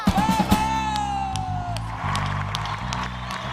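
An audience at a murga competition applauds the group, clapping and whooping cheers rising over a sustained sung note and a steady low musical backing.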